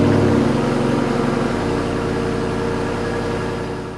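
A Jeep Wrangler 392 V8 hums steadily while driving, a loud, even low drone heard from inside the cabin that eases slightly toward the end, with no talking.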